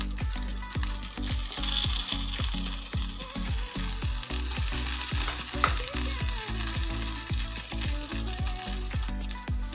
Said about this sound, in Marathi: मॅगी टाकून झाल्याच्या नंतर कढीने आपल्याला अशा पद्धतीने तेल सोडून घ्यायचं.